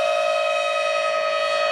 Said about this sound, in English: And the new sirens are going off too.